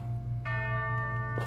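Bells ring out in a video game: a single bright, sustained chime rings clearly, and a second strike follows near the end, set against a low steady background hum.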